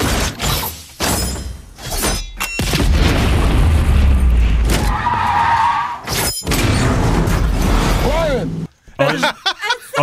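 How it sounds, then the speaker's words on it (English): Loud Furious 7 trailer action, with heavy booms, crashes, shattering and tire skids packed densely, a sustained roar through the middle, a brief drop near the end, then sharp hits resume. "No dialogue will get in the way of all the explosions."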